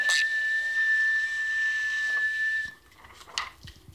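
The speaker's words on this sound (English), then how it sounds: "try and form the whistle, and stick this piece of paper in your mouth" A mouth whistle formed at the palate with a piece of paper held in the mouth, giving a steady airy whistle for close to three seconds, then stopping, with a short breathy burst after.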